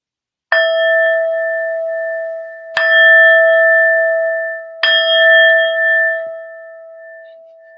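A handheld bell rings three times at a gym class, each a loud, clear metallic strike. Each strike leaves a long ringing tone that fades slowly before the next one, with no voices over it.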